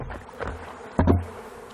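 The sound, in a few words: bees buzzing around a sugar feeder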